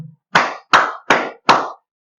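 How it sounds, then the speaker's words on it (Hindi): Four loud, close, evenly spaced claps ring out with a short decay after each, followed by silence. "वाह, तालियां"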